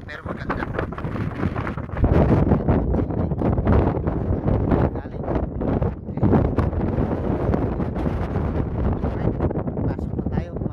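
Strong cold wind buffets the microphone aboard a ship, roaring in heavy gusts that swell and fade over about ten seconds, with a voice talking partly under the rumble.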